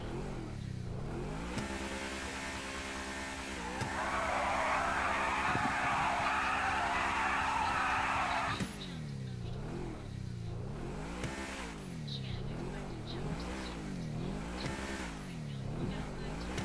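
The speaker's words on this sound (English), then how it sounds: "Let's listen to what the Audi has to say." Audi car in GTA 5 revving hard, its engine note rising and falling in repeated sweeps, with a loud sustained tire skid in the middle, all close and continuous.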